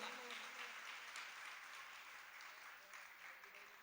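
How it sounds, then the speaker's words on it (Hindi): A seated crowd at a Jain religious discourse in Banswara claps together in a continuous even roar that fades slightly toward the end. "ताली बजाकर स्वागत करिए इन सब लोगों का।"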